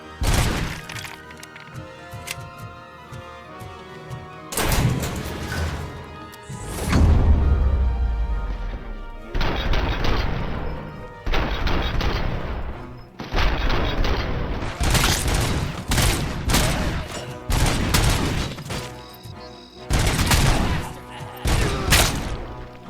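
A statue gets shot up in Robocop: Rogue City with bursts of loud, close gunfire separated by short pauses, each volley cracking and shattering debris, and a heavier booming hit partway through.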